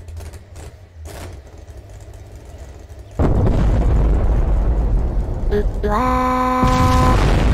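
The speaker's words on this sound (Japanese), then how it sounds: "ちゅうわけで、爆破。" Nuclear bomb detonation in Garry's Mod: a quiet stretch with a brief exclamation, then a sudden massive roaring blast that sustains as a loud, rumbling wall of noise, with a rising synthetic tone layered over the end.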